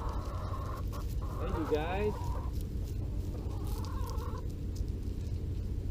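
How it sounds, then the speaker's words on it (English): Chickens clucking in a yard amid outdoor fruit-tree grafting work, with short warbling calls rising over a steady low rumble and a person talking briefly. "And here come the chickens"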